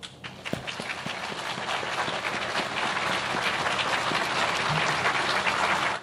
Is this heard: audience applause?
yes